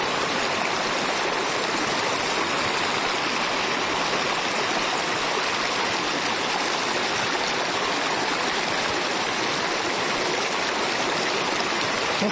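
A mountain stream in Siberia rushes past close by, a loud, steady wash of splashing water that holds constant throughout with no voices.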